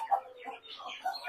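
A hen in a backyard poultry pen gives a few soft, short clucks, faint and close, over quiet surroundings.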